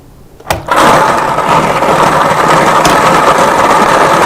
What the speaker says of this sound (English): So the machine is going to give us the 6 letters